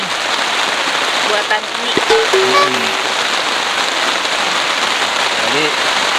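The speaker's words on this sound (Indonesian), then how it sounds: "Jadi kondisi sekarang hujan, kita masih bisa makan" Steady rain pours onto a mountain campsite, a dense continuous hiss of drops on surfaces throughout, with a person talking briefly over it.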